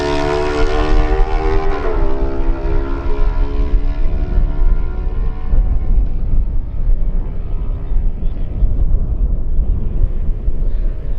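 Kawasaki lightweight racing motorcycle at the Manx Grand Prix sweeping past, a loud high engine howl that drops in pitch as it passes and fades into a lingering roar.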